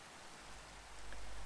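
Rain falling in modded Minecraft 1.18.2, a soft, even hiss of rainfall, quiet and continuous, thickening slightly toward the end.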